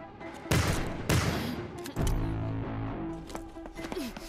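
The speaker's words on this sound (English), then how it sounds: "I forgot about the minigun." A minigun fires in short, loud bursts, about three heavy volleys in quick succession with a rumbling rattle trailing between them and no voices.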